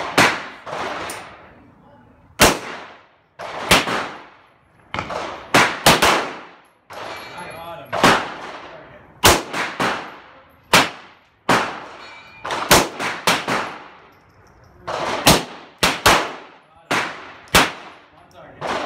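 Series of sharp gunshots aimed at lawn gnomes, loud close cracks with metallic clangs at irregular intervals, some in quick pairs, with short decays between.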